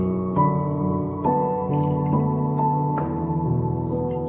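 Water is poured into a lime sample in a laboratory flask, giving a tonal, ringing trickle with several faint splashes and drips, the pitch steady as the liquid runs in.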